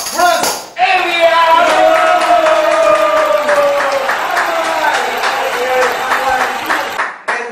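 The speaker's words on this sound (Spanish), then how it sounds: "recibimos con aplausos fuertes, fuertes a Franz Evia" A studio audience gives loud, sustained applause to welcome a guest onto a show, a dense wash of clapping mixed with crowd noise and a few thuds, running steadily for several seconds before tapering off.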